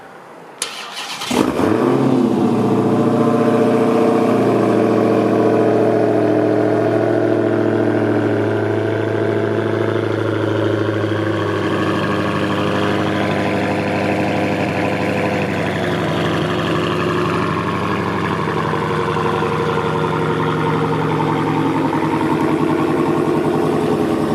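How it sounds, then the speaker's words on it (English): A 2016 Dodge Challenger SRT Hellcat engine cranks and fires up, then settles into a loud, deep, rumbling idle with a throaty, aggressive exhaust that holds steady for a long stretch. "Aggressive exhaust note, just you know, for basically an idle"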